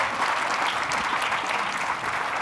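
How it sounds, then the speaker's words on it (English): A conference audience applauds the organizer, David, in a continuous, even roar of many hands clapping, close and full with no gaps. "how about giving David a round of applause for putting together a great conference?"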